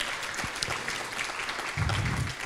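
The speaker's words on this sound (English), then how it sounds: "Let's give Carl a round of applause." Audience clapping for Carl at a district meeting, a steady, moderately distant patter of many hands that continues throughout with no talk over it.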